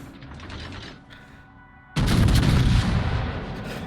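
A battleship in World of Warships, the North Carolina, fires a heavy naval salvo, a sudden deep boom that rolls into a long, loud rumble after a quieter stretch of low engine noise.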